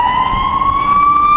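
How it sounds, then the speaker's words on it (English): A loud emergency vehicle siren holds a steady, piercing wail close by, filling the whole moment with little else audible. "There's a siren."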